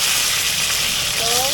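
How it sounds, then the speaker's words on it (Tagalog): Chicken seasoned with salt, pepper and garlic fries in a pan with a steady, close hissing sizzle, and a faint voice comes in briefly near the end. "Pipiprito ko yung manok na kalit."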